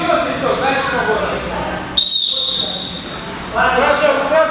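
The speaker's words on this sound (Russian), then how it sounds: "Еще раз свисток, дальше свободно." A coach blows a sharp, high whistle once, clearly over the background, during a boxing training session in a gym, while a voice calls out instructions before and after.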